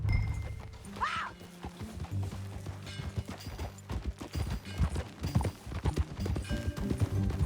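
Horse hooves clip-clop steadily over a busy mix of low rumbling and clatter, with a brief whinny early on, in the video game Red Dead Redemption 2.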